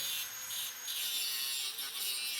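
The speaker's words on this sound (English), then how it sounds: "going to start cutting this out. Like this. Take the grinder to it." Angle grinder cutting out a section of metal for a custom solid-axle golf cart lift, a continuous high, harsh whine with slight dips as the disc bites, steady and close.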